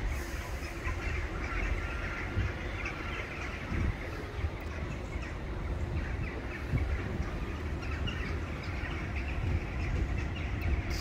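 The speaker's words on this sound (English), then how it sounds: "Jackdaws gonna roost at night." A massive flock of jackdaws streams in at dusk to roost in trees all around, producing a dense, continuous wash of chattering calls with faint scattered clicks, steady and fairly distant, with no voices.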